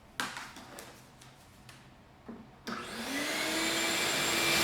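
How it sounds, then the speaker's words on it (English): A vacuum cleaner switches on close by in a garage where a burnt Ferrari 360 is being stripped. Its whine ramps up and then holds steady and loud, after a few scattered taps and knocks. "let me get the vacuum real quick."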